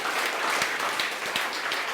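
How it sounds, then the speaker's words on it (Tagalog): A church congregation claps loudly together at a worship service, a dense, even wash of applause with a few sharper individual claps standing out. "Malakas sa palakpak para kay Lord."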